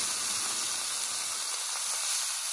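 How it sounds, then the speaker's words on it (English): Meat searing in a crock pot gives off a steady, close, hissing sizzle as its juices fry, continuous and unbroken with no voices over it. "Sear all those juices in there."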